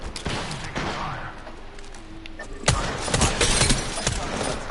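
Video game gunfire cracks out in rapid bursts of close shots that overlap with other battle noise, loud and dense throughout.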